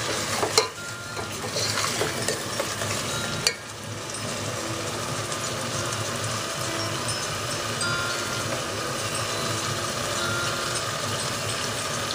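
Torai (ridge gourd) sabzi frying in a pan while being stirred, a loud, steady sizzle with a couple of sharp utensil knocks early on, close and continuous, with no talk.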